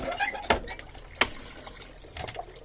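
Water gurgles and burps from a hand water pump at an off-grid log cabin hunting camp, with three short, fairly sharp gulping bursts over a low, steady watery background.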